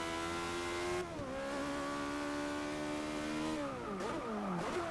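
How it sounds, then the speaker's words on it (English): A high-revving V8 race car engine in Forza Motorsport 6 roars steadily, pitch dipping as it shifts gears and climbing again, loud and close throughout. "That V8 sounds absolutely amazing."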